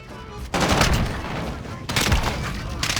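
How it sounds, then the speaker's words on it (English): Shotgun fire in the video game Modern Warfare: two loud, close blasts, each followed by a long rumbling tail, the second coming about a second and a half after the first. "He's using a shotgun."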